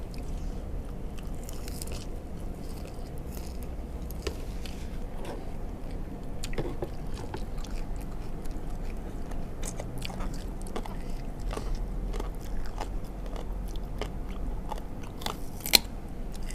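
Someone eats spicy som tam papaya salad with squid and fermented fish sauce, giving irregular crisp crunches and close chewing sounds with occasional sharper bites over a steady quiet background, without any speech.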